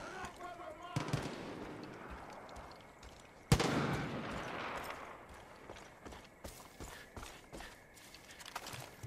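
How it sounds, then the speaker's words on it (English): Gunfire breaks out in Far Cry 5, a sharp loud shot followed by a burst of scattered, irregular shots and clatter at moderate distance, with a voice shouting over the start. "We got live fire!"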